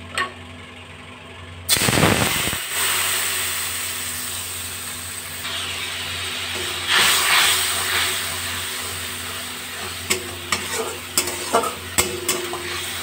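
Spice paste poured into hot oil tempered with whole cumin and bay leaves for a potato and pointed gourd curry bursts into a loud sizzle, then settles into steady frying with scraping stirs and clanks near the end.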